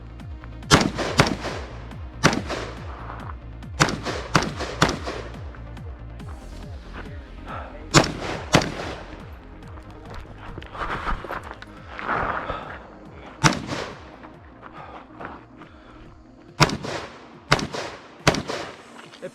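Rapid gunshots on a 2-gun shooting competition stage, sharp loud cracks fired in quick bursts and pairs with short pauses between strings, close to the shooter.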